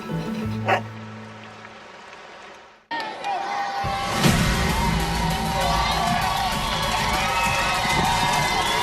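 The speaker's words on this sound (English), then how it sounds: "The crowd cheering for Amanda Booz down on the sideline here" A crowd cheers at a Friday night football game, a loud, dense roar of many voices that swells up and holds steady for several seconds after a brief moment of talk.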